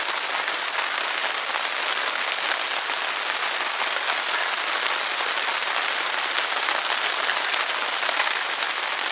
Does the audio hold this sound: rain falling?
yes